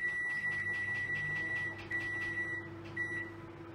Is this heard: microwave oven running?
yes